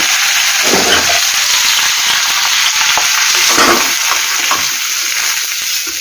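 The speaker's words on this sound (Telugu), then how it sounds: "మూత చేసి ఇలా వేగడం సరిపోతుంది" Ingredients for a large-amla (Indian gooseberry) chutney fry in a pan with a steady, close sizzle, broken by a few low stirring scrapes and knocks, with no talk.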